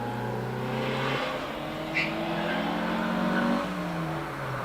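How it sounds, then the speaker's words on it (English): An Alfa Romeo 75 saloon with a 2-litre engine accelerates up the Prescott hillclimb, its engine note rising steadily through the gears at a distance, loud and continuous with a brief gearchange. "Paul Holmes continues his way on up the hill in that Italian saloon"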